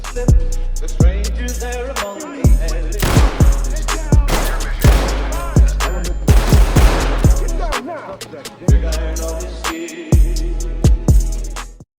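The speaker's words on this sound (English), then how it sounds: "So, the Colt Python goes into S tier." Colt Python revolver shots in the tactical shooter game Ready or Not, a loud close series of sharp booming reports fired at an uneven pace, some in quick pairs.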